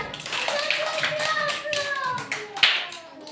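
Young children in a village preschool class clap together in a quick, uneven patter while voices sing and chatter over the clapping.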